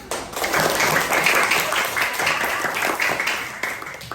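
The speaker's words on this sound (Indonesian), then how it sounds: "Sekarang beri apresiasi buat diri kalian dengan tepuk tangan" A class of students applauding together in a classroom, a steady wash of clapping held at an even level for about four seconds.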